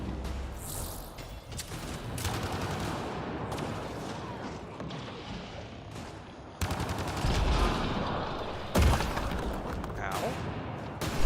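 Turret gunfire in Mass Effect: Andromeda comes as dense, rattling bursts over busy combat noise, with a couple of sudden louder hits partway through and no talk.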